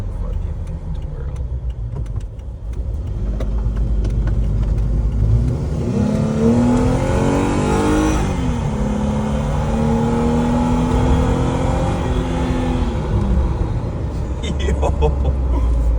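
Jeep Wrangler 3.6 Pentastar V6 revving up and holding high RPM after a timing chain job, a steady loud engine roar rising mid-clip, with people talking over it.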